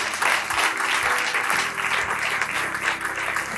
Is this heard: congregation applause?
yes